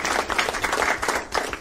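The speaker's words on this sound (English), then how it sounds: "I'm just going to assume, guys, that you are applauding me and Ed." An audience at a live tabletop game session at a UK Games Expo breaks into applause, a dense patter of many hands clapping at close range, steady for the whole moment.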